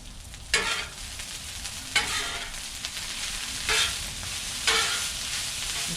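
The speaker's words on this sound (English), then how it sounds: "Get that butter melted down. Stir it around." Butter melts and sizzles across a hot Blackstone griddle in a steady crackling hiss, with a spatula stirring it through in several scraping sweeps.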